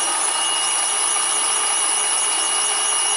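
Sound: drill used as power feed during a cut

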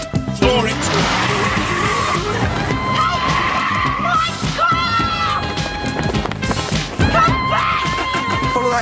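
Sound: car accelerating hard with tires skidding

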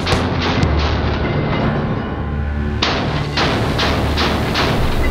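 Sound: 50 caliber machine gun firing with B.E. Meyers flash hider

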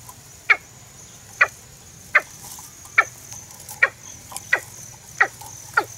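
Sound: watercock (cúm núm) calling in a trap

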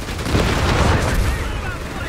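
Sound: mortar barrage on machine gun in Company of Heroes 3 video game

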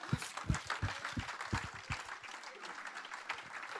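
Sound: audience applauding during a Bible teaching

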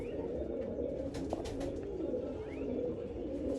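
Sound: pigeons

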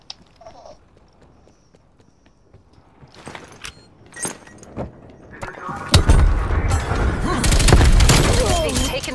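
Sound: grenade explosions and gunfire in video game Call of Duty Cold War

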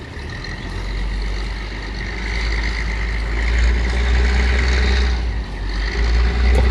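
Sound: six-cylinder engine roaring through a big exhaust pipe

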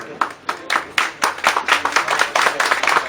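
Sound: audience clapping at an award ceremony

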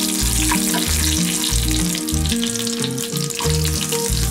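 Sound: mustard seeds, cumin, chana dal and peanuts frying in oil

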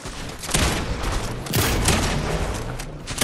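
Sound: gunfire in a battle royale video game

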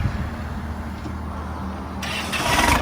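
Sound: Kubota M9540 tractor engine starting

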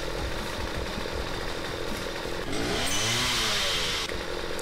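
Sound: chainsaw enemy in Star Forge video game

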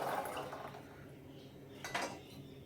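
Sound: soaked chickpeas added into pressure cooker

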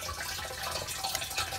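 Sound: water filling a Fiamma 70L camper van tank through inlet pipe

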